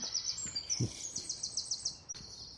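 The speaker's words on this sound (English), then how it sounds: "the birds tweeting and all the early morning sounds" Birds tweeting in early morning woods, a thin high chirping trill running almost continuously and fairly faint, with a few soft low knocks and rustles underneath.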